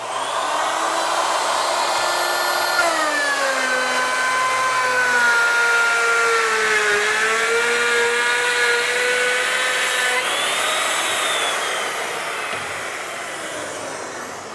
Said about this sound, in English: Going to plunge the router up above the work, go all the way through, relax it away from the work,